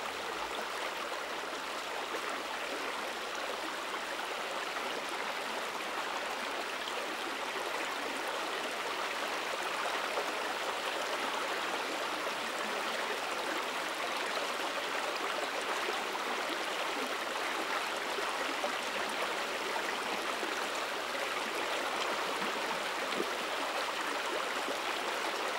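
A creek flows in a steady, even rush of water where a grizzly bear drinks in a protected grizzly habitat, with no other sounds standing out.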